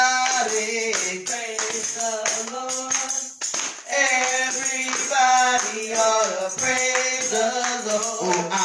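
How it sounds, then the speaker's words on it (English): A church congregation claps in steady rhythm during a lively gospel song, with the clapping running under strong singing and music the whole way through. "Clap your hands, everybody."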